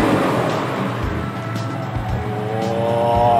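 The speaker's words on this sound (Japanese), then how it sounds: "ではエンジンかけます" An Aston Martin DB6 engine cranks and catches, then settles into a steady low idle around 1000 rpm with a continuous rumble, close by.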